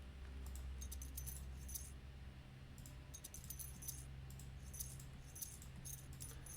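Keys jangle in the video game Blue Prince in several quick, bright bursts repeated across the clip over a steady low hum, with no talking.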